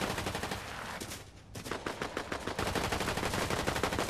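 Dense, continuous automatic gunfire from enemies in a video game, loud rapid bursts that briefly dip before resuming at full intensity.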